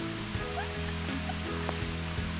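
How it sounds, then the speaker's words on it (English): Heavy rain pours down on an outdoor building site where a large French drain is being dug, a dense steady hiss mixed with a low, droning engine hum, with no voices. "It's just started to pour rain again."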